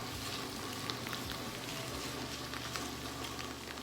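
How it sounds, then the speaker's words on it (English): Onions, mushrooms and bacon sauté in a pan, a steady close frying hiss with faint crackles under a low hum. "you can see that the onions and the mushrooms are getting a nice saute"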